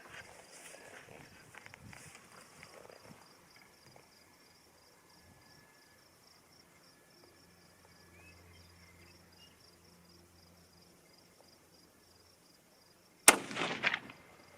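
A single loud rifle shot from a .25-06 Remington loaded with IMR-4350 powder cracks near the end, following a long stretch of quiet outdoor ambience with crickets.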